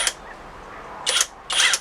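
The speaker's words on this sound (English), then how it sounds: "Make sure the impact drill is going the right way." Three short mechanical bursts of an impact drill driving screws while fitting a seat swivel base in a campervan, each a quick whirring ratchet sound, separated by quiet gaps.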